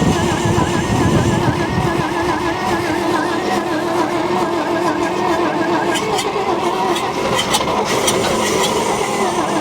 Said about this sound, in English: be able to crank it over, see what happens.